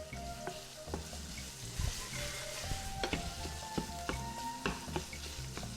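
Sausage meat taken out of its casing sautés in a pan, a soft, continuous sizzle broken by sharp spoon scrapes and clinks as it is stirred, with no talking.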